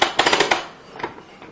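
A Dutton-Lainson covered hand winch lever flips into ratcheting mode, giving a quick run of five sharp clicks close by, then a couple of fainter ticks.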